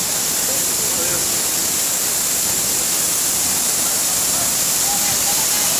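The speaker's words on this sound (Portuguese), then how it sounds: "Tem que vir curtir a cachoeira." The Beija-Flor waterfall at PETAR roars in a steady, dense, unbroken rush of falling water that fills the whole clip, with faint voices of visitors blending into the noise.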